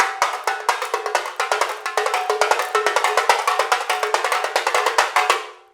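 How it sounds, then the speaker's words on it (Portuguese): Tamborim played in samba style with the virado technique, the hand flipping the small frame drum for a rapid stream of sharp, bright, dry strikes in an even driving rhythm, close and loud with no talking. "Esse é o som do tamborim virado."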